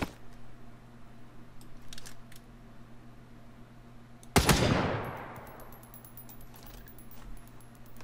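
Gunfire in the survival game The Front, a single loud sharp shot with a decaying echo midway, surrounded by faint clicks and light metallic rattles over a low steady hum, with no talk.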